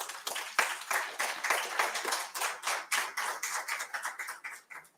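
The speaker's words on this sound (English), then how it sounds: "applause was extremely weak for the kind of work he has done" Thin, sparse applause from a conference audience honoring a club president, scattered individual claps in an uneven rhythm, moderately distant and fairly quiet, with no voices over it.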